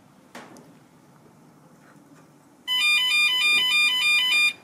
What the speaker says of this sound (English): I have the voltage alarm connected, but not connected to a battery. And the voltage is below my low voltage alarm setting.